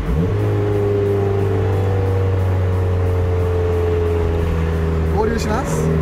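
A Mazda Roadster's engine drones steadily from inside the cabin while driving, a constant low hum with a brief shift in pitch near the end, and voices talk over it.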